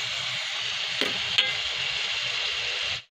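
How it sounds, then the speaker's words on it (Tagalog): Meat sizzles steadily in a pan with onion and garlic, a close, continuous frying hiss with a couple of brief utensil scrapes and knocks before it stops abruptly. "Isahin lutuin natin mga yung karne guys."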